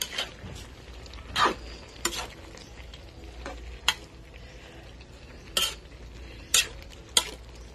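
A spoon stirs dinengdeng vegetable stew in a cooking pot, giving intermittent clinks and scrapes against the metal over a faint simmer.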